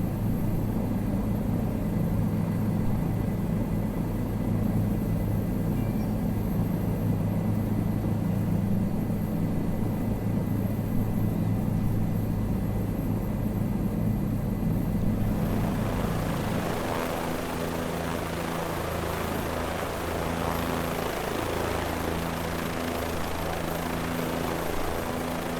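A simulated LAPD police helicopter in Microsoft Flight Simulator 2020 flies over Los Angeles toward the Wilshire area helipad, its steady rotor and engine drone loud and continuous, the tone shifting slightly partway through.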